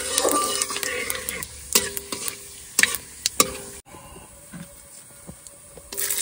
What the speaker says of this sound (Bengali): তেলটা ভেজে পেঁয়াজটা দেবো।